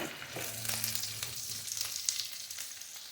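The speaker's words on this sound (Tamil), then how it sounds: "இன்னும் கொஞ்சம் கோல்டன் கலரில் மாறுறதுக்கு நல்லா ஃப்ரை பண்ணிக்கோங்க." Garlic, onion and chillies fry for a chutney, giving a steady close sizzle with soft crackles and a few stirring scrapes throughout, no voices.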